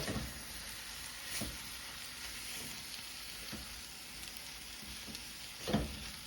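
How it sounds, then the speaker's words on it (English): Vegetables stir-fried in bacon fat give a soft, even sizzle close by but at low volume, broken by occasional knocks and scrapes of stirring, with no talking. "I'm stirring just to make sure that the fat from the bacon is coating everything"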